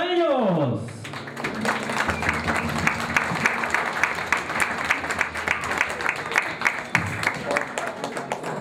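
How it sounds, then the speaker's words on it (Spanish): Audience applause for the group Cañar Manta at an evening choir program: after a brief voice at the start, dense, steady clapping fills the room and continues loudly to the end. "El aplauso para ellos."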